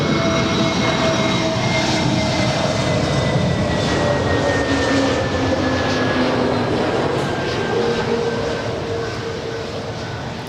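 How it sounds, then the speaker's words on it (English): An American Airlines Airbus A321neo arriving at LAX from Dallas Fort Worth: a loud, steady jet engine roar with a faint whine, fading slightly toward the end with no talk. "This is American Airlines 959 from Dallas, Fort Worth. It is an A321neo."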